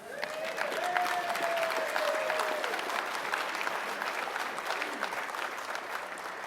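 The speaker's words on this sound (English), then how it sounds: "Now, Diane, we're going to give her a proper round of applause." An audience at a conference applauds steadily, a dense even patter of many hands that stays moderately loud throughout and slowly eases off.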